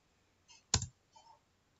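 Keys pressed on a computer keyboard to enter a short password for a Telnet login in Cisco Packet Tracer: three quiet, separate clicks in under a second, the middle one sharpest, with near silence around them.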